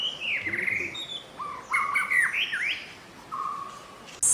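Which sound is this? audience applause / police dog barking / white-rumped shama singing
white-rumped shama singing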